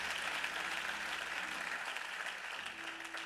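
A congregation at a Christian worship festival claps and cheers steadily, a sustained wash of applause that fills the space without pause, with no talk over it.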